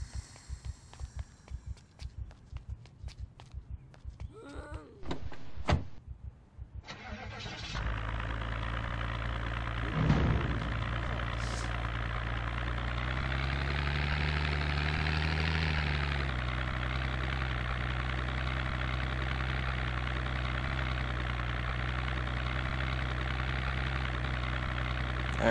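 Car engine in the game Project Zomboid turning over around the middle and settling into a steady, loud idle that holds for the rest of the stretch, after a few quieter footstep-like knocks at the start.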